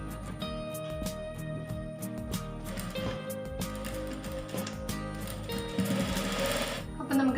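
A sewing machine stitching a fabric placket runs in a fast, steady mechanical chatter close by. Its pace shifts slightly as it goes, and a voice talks over it.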